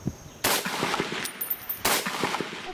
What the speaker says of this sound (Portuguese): Numa operação em Antares, a polícia foi recebida a tiros pelos bandidos.